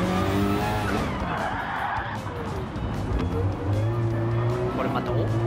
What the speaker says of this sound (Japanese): 頑張りすぎたか、タイヤが滑っていきましたね